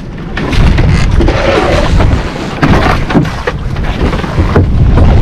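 Heavy rain roaring steadily, a loud dense wash of noise with gusty swells, alone without voices.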